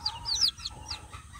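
High, thin peeping from newly hatched village chicken chicks, several quick cheeps in a row, close and fairly quiet.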